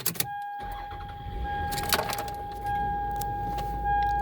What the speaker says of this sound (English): I can see if I could still turn on this vehicle.